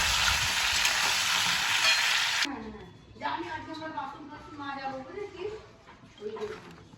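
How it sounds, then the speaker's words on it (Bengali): Potatoes frying in a pan for aloo bhaja: a loud, dense sizzle fills the first two seconds, then cuts off as a person begins talking over faint kitchen background. "আর একদিকে এই যে আলু ভাজা স্টার্ট হয়ে গেছে"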